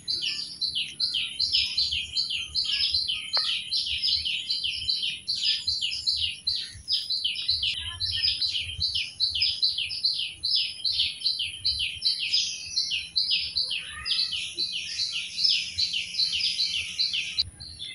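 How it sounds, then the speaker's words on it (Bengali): Early-morning birdsong around 7 a.m.: one bird repeats a rapid, high chirping phrase over and over for the whole stretch, fairly close and steady, with faint low rumble beneath. "সকালের পরিবেশটা কত সুন্দর, পাখি ডাকাডাকি করতেছে।"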